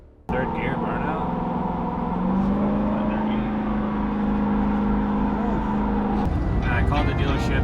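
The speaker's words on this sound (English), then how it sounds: "Third gear burnout." A Ford F-450 Limited pickup truck doing a third gear burnout, its engine holding a loud, steady high-revving drone that climbs slightly in pitch midway, then cuts off sharply near the end, followed by a rougher, broken rumble.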